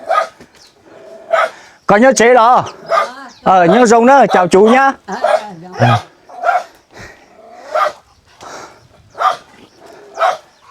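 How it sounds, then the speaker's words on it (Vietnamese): Dogs bark in short bursts near a rural cave home, sharp yaps and whines mixed with nearby conversation between visitors. "Ôi chó sủa quá."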